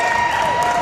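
Crowd noise at a Texas high school boys' basketball playoff game in a gym on the Estacado High School campus in Lubbock, a steady roar of cheering and applause filling the whole short stretch under an announcer's voice.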